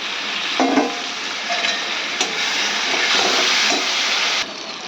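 Tomatoes and green chillies hit a hot pan with a steady broadband sizzle and hiss, a few louder crackles as pieces land, and a stir or two before the frying quietens near the end.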